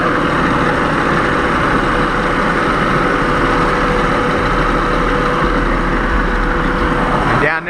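A car engine idling with the AC compressor running during an air-conditioning recharge, a loud, steady low rumble and whir that holds constant throughout, then drops off at the very end.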